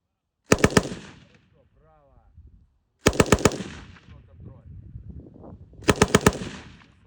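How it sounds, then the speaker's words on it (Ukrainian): Three short bursts of fire from an American M240 heavy machine gun, each a rapid string of loud cracks, separated by a few seconds of echo and quiet rumble. "Я, наприклад, навчився стріляти з американського важкого кулемета М240"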